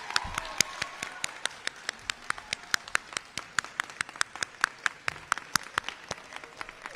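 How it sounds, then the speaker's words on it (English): Sparse, evenly spaced claps ring out from a graduation ceremony audience recognizing the 2024 Governor's Health Sciences Academy graduates, a steady scattering of individual hand claps rather than a dense roar, moderately close and with no talking. "let's have one more round of applause for the Governor's Health Science Academy of"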